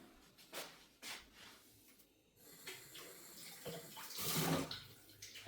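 A kitchen tap runs while a knife and cutting boards are rinsed beneath it, soft splashing water with brief clatters, fairly quiet and swelling louder near the end, no talking.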